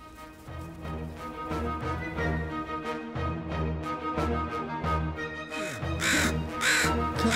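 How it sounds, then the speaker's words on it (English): Several loud, close crows caw in repeated harsh bursts, one after another in an irregular rhythm, outdoors in early snow with no talking. "The crow wants to eat."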